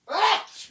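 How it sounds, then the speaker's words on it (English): One quick, close sneeze, a sharp burst of breath that fades out within a second. "I have to sneeze."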